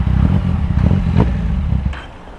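A new motorcycle's engine runs close and noisily, a rough, low clattering rumble with mechanical rattles, heard alone for a couple of seconds.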